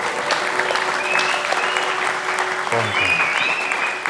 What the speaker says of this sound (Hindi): सब लोग ताली बजाइए एक बार जितने भी बैठे हैं